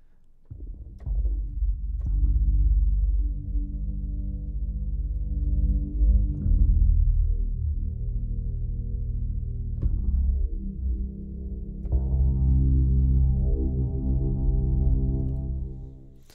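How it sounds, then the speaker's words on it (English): Evolving synth pad layers from the Karanyi Audio Synths II library with heavy reverb, sustained low droning chords that shift and glide, restarting with soft attacks about every few seconds and ringing out alone. "spaced out layers, so they have a lot of reverb and they're more pad-like."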